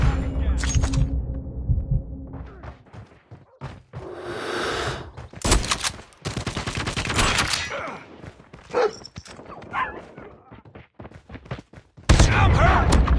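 Call of Duty multiplayer gunfire: bursts of sharp shots and fusillades come in irregular clusters, loud and close, mixed with game voice lines and other battle effects.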